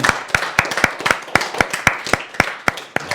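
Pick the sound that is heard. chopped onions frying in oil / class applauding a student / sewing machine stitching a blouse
class applauding a student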